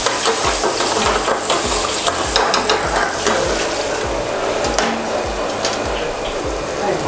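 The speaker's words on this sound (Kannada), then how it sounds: "ಇದು ಮಶ್ರೂಮ್ ಹಾಫ್ ಡೌನ್ ಫ್ರೈ ಮಾಡ್ಕೊಂಡು ಹಾಕಿರ್ತದೆ." Mushroom chop masala is stir-fried on a street stall pan, with a steady loud sizzle and a rhythmic run of metal spatula scrapes and clanks against the pan, close up throughout.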